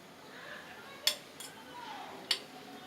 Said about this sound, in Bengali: এই 4 চামচ মতন সর্ষের তেল দিলাম।